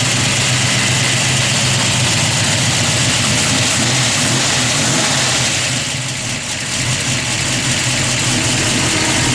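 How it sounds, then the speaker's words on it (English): A 1964 Ford Galaxie 500XL engine idles steadily and loudly close by, a constant rumble with a ticking lifter noise running through it and no talking. "Hear those sound lifters in there."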